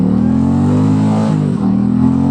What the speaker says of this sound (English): let's give this a little bit of a throttle pull, even though we're on standard.